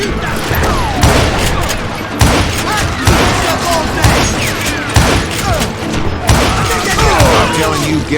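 Rapid gunfire from many shooters in the Western shooter game Call of Juarez Gunslinger, loud and close, with repeated heavy bursts and booming shots roughly every second, while someone shouts over the din.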